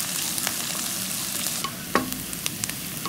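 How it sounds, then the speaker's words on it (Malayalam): Curry leaves, ginger, garlic and green chili sizzle in a pan while being stirred, a steady close frying hiss broken by a few light scraping clicks of the spoon. "ഇതെല്ലാം കൂടി ഒന്ന് ഇളക്കി കൊടുക്കാം"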